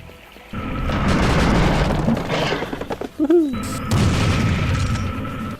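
Gunfire from the shooter Serious Sam HD, Second Encounter, Serpent Yards level: loud, sustained booming blasts that break into a quick string of sharp bursts midway, then swell again into heavy rumbling.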